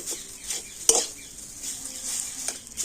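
Laddu mixture is stirred in a pan with a utensil, giving soft scraping and occasional clinks under a faint sizzle, with one sharper knock early on.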